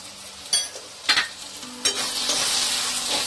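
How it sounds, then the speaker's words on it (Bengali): Ground spice masala with turmeric and chilli powder sizzles in hot oil for a Bengali mutton curry, stirred in short scraping bursts before the frying hiss swells into a steady, close sizzle. "মশলাটা আমি ভালো করে কষে নেব"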